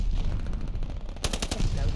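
Call of Duty: Vanguard gunfire cracks out in a quick burst of several rapid shots midway, loud against a low rumbling game background.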